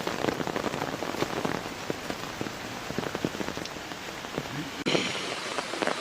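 Heavy summer rain pours down onto surfaces nearby, a dense continuous patter of countless drops with a few louder splashes, steady and fairly loud with no voices.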